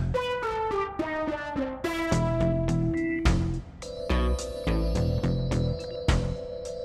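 Electronic telephone tones ring out in a busy, shifting sequence of pitched beeps and dialing-style notes, loud and close with no voices over them.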